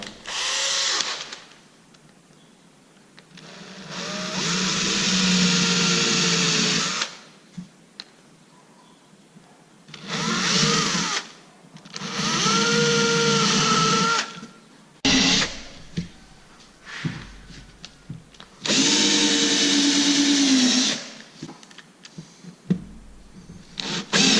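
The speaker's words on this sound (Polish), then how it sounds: "I wiercę tylko przez listewkę" A power drill bores through a thin wooden strip into a board for a circular saw sled, running in several loud whirring bursts separated by short pauses.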